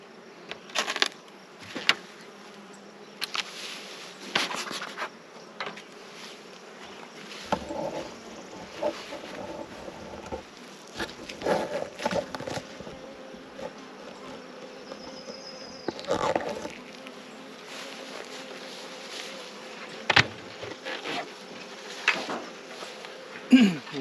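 Honey bees buzz around a production hive during late-summer mite treatment, a steady close drone with occasional louder passes of individual bees and intermittent bumps and handling noises.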